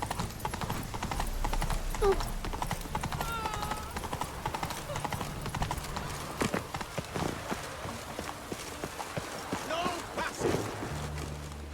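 A horse's hooves clip-clop steadily on a road in The Witcher 3 video game, a close walking rhythm with occasional snorts and a whinny, under intermittent game speech.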